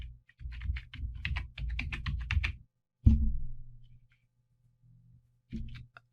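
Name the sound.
typing a plugin name on a computer keyboard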